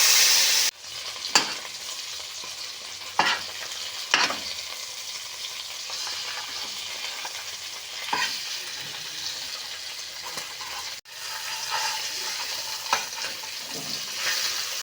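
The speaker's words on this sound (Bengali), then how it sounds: "এই আমি মাছ ভেজে নেব।" Tangra fish frying in hot oil keeps up a continuous sizzle, broken by several sharp stirring clicks and spatters across the clip, ending with a brief dip and a return to frying.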